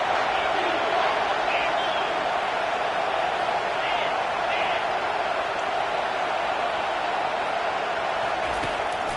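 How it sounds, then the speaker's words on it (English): A college football video game stadium crowd roars steadily through the whole stretch, a dense unbroken wall of cheering, while a commentator talks over it. "The crowd getting behind this defense as they try to get a stop in the red zone."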